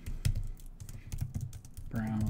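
Typing on the magnetic keyboard of a OnePlus Pad tablet, a run of quick, light key clicks in an uneven rhythm, close by, with a voice talking partway through.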